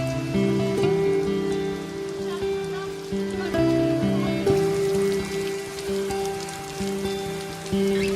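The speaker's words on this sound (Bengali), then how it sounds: "এত জোরে বৃষ্টিটা এলো মনে হলো আজকে সারাদিন তো বৃষ্টি থামবেই না" Heavy rain falls on trees and leaves, a dense, continuous patter heard under steady melodic tones that run throughout.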